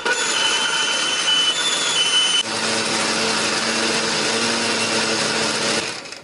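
An electric blender whirs continuously while grinding garlic, shallots and ginger with water, its motor pitch dropping and settling partway through before winding down at the end; loud and close, with no speech.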